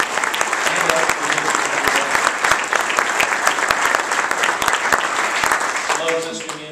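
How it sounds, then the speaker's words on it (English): A lunch crowd at a chamber of commerce event gives a loud, sustained round of applause, an even wash of clapping near and far, with a voice starting up as it winds down at the end. "And would you just give her a round of applause?"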